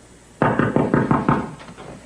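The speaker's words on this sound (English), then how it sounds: "Eden, I can't work with you hammering on the door like that" Someone pounds hard on a door with a quick run of six heavy, evenly spaced knocks, loud and close in an otherwise quiet room.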